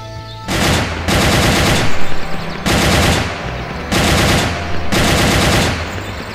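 Automatic turret fire in the VietDoom mod for Doom rattles in four loud sustained bursts, each a rapid stream of shots, separated by brief pauses with lingering echo.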